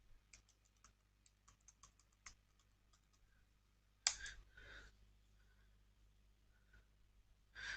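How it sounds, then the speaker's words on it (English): Command being typed on a computer keyboard to create a project with a command-line tool: quick, light key clicks in an irregular rhythm, then a few louder thumps near the end, close and quiet with no talking. "I have to type OC new hyphen project, then the name of the project."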